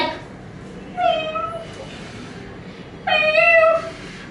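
A pet cat lets out two short, nasal meows about two seconds apart, heard up close in a quiet room while it sleeps and snores.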